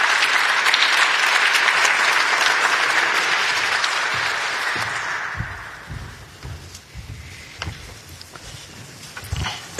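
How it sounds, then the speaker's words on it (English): An audience applauds Mr. Gentiloni at the Vienna Economic Forum, a loud, dense clapping from a large crowd that fades after about five seconds, leaving scattered footsteps and knocks. "Please give a warm applause to Mr. Gentiloni"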